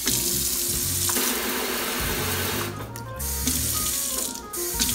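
Tap water runs steadily into a kitchen sink in an empty house, a loud close splashing rush that briefly dips and picks up again, with no voices.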